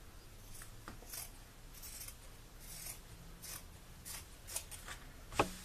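Scissors snipping through denim jeans, a series of quiet crisp cuts spaced irregularly and close by, ending in a sharper snip, with no talking.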